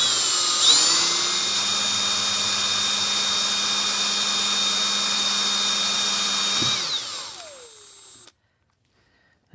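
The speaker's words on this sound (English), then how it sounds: "Okay, so we're drilling the new holes." A power drill whines steadily while boring new holes into an F11 carburetor emulsion tube, a loud, close, sustained high-pitched drone that spins down near the end before silence.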